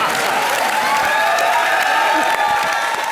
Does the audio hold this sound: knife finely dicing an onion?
no